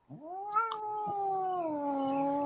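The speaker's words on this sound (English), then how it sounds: "I could not have said it better than your cat just did, Kimmy." A domestic cat lets out one long, drawn-out meow that rises and then holds steady like a caterwaul, close and fairly loud, heard alone in a quiet room.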